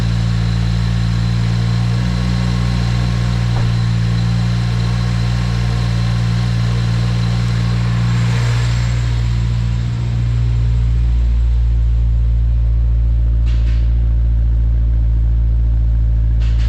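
A 2023 Subaru WRX with an ETS charge pipe and header runs on a dyno, its engine droning loud and steady in a deep, continuous rumble with a brief dip partway through.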